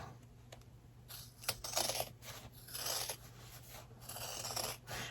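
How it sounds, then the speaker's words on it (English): Scissors cut through thick layers of stitched fabric on an in-the-hoop zipper bag, a faint, close, rough crunching and snipping in repeated strokes over a steady background hum. "You need some pretty good scissors to cut through all these layers"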